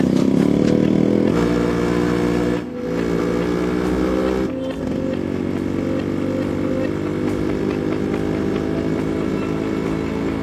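A motorcycle engine runs loudly and steadily throughout as it is ridden away, with a brief dip in the roar before it resumes, no voices.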